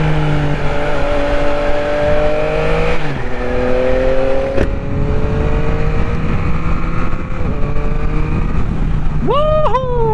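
A motorcycle rides along with a steady, loud engine drone, the pitch climbing as it accelerates through the gears, with wind buffeting underneath and a sharp rev near the end.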